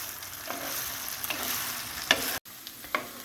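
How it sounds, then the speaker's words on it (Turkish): Rice and chickpeas roasting in a pan over low heat and stirred constantly: quiet, soft sizzling broken by a few sharp scrapes and clicks of the spoon against the pan. "Daha sonra kısık ateşte güzelce pirinçlerimi kavuruyorum."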